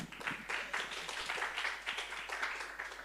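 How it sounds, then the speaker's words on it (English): Applause from a conference audience welcoming a speaker at a Bitcoin and human rights talk, a steady wash of many hands clapping at moderate volume for about three seconds. "Thank you very much for the applause."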